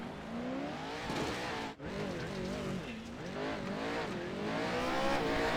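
An off-road Pro 4 truck engine roars in a racing game, the throttle feathered in repeated rising and dipping waves with a brief cut; loud and continuous, no voices.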